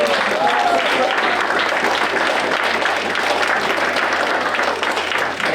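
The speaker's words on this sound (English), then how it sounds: "Let's have a round of applause." An audience at a STEM awards banquet applauds to honour the adults in the room, with dense, sustained clapping that fills the hall at full volume from start to finish.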